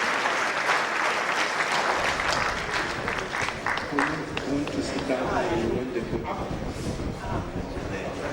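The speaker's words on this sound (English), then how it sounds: "can we give a round of applause again to Engineer ABDULLAHI?" An audience at a science and technology lecture event at Kaduna Polytechnic gives a round of applause, a dense wash of many hands clapping close and loud, with voices murmuring beneath it toward the end.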